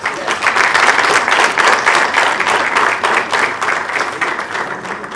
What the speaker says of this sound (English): maybe with a big round of applause for this project